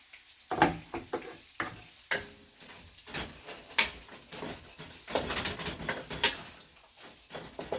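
Onion and garlic fry in a pan while a utensil stirs them, giving a steady sizzle under repeated scraping and clacking strokes at close range, with no talking.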